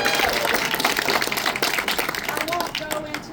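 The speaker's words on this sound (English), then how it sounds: "Let's give him a round of applause." An audience at a high school ribbon-cutting ceremony applauds with dense, steady clapping that continues throughout and tapers slightly at the end.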